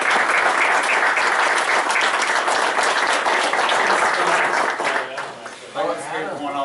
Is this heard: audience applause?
yes